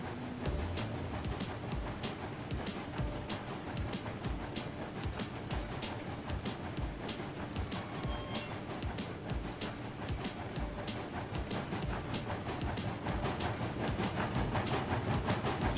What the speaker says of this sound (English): Nice little chuff going on here.